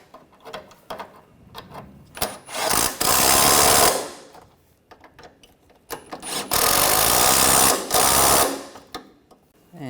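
A power tool whirs in two sustained loud bursts while tightening bolts on the AC condenser of a 2013-2019 Ford Escape 2.0L, with scattered metallic clicks and handling noises between the runs.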